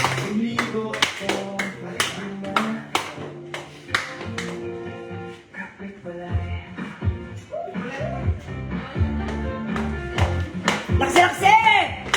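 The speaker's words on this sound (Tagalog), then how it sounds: "Ano ga, palakpak lang, hindi ko sabay-sabay" Hands clapping in a rhythmic pattern, sharp claps in regular groups with brief pauses, mixed with tapping and voices counting and singing along in a close room.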